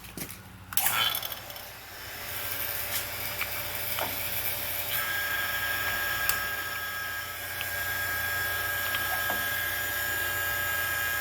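A vacuum pump hooked to a car's air conditioning system runs in a steady, continuous drone with a faint tonal whine. A sharp knock comes near the start, then the sound holds an even level throughout.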